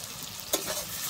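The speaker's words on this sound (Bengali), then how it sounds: "আমি আলু বেগুনটা কিন্তু একটু ভালো করে ভেজে নেব" Potato and eggplant frying in a pan on a village stove, a soft steady sizzle with a single sharp scrape of stirring midway, close and fairly quiet.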